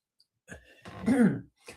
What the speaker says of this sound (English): I seem to have a coughing fit